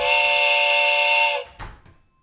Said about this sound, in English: we definitely did get a train whistle there